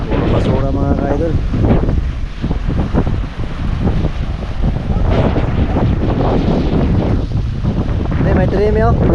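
Strong wind buffets the microphone out at sea after a typhoon, a loud continuous roar with gusty surges and a wash of water, while a voice talks intermittently over it.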